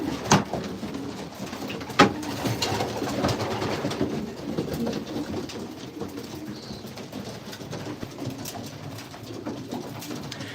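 Pigeons coo inside a backyard pigeon loft, soft repeated throaty calls close by over a rustling, busy background, with a couple of sharp knocks early on.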